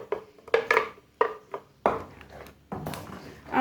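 Biryani masala mixture is tipped into the pot with a handful of separate clattering clinks and scrapes of utensil against metal, close and intermittent, with no talk.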